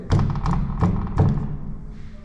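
Someone bangs on an old courthouse door: three heavy, fairly close thuds, evenly spaced, each ringing briefly before the next.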